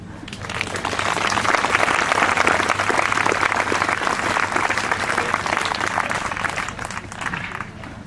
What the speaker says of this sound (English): You sure have a wonderful way of welcoming folks with claps and accolades